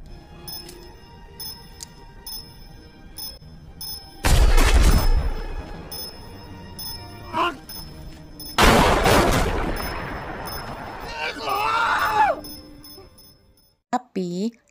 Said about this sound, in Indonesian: Keiko mencoba menembaknya sehingga Kurada terpaksa mempertahankan diri dengan menembak Keiko.